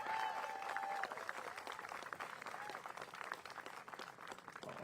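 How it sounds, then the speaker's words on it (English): Audience applause at a mayor's Medicaid event honoring health workers, hospitals and health associations; fairly faint, distant clapping from a crowd, uneven and fading slightly, with a brief tone at the start. "Let's give them a big round of applause."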